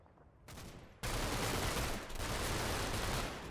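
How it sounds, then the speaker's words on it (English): Dense gunfire erupts in the World War II strategy game Combat Mission: Battle for Normandy, starting with a quieter burst then swelling into a loud, sustained fusillade of overlapping rifle and machine-gun shots. "So we have been shooting at them."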